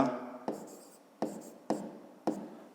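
Pen or chalk writing triangle side names in a fifth-grade maths exercise, four sharp scratchy strokes at roughly even intervals, close and clear, following a brief fading voiced sound.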